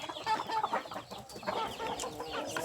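Young Burmese-breed chickens roam loose, pecking at grass, and cluck steadily at close range, several birds overlapping in soft, irregular calls.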